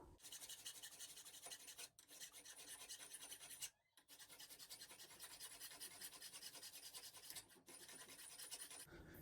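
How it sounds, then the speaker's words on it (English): A hand file rasps back and forth across a homemade metal lever lock part clamped in a vise, repeated close scraping strokes in a steady rhythm with a few brief pauses. "So what we need to do now is we need to file all this flat"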